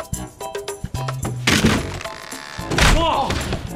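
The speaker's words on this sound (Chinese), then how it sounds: "你哋听唔到嘭一声咩？" A door collapsing in a staff dormitory on a TV comedy set, loud crashing thumps and a breaking bang, with people talking over the commotion.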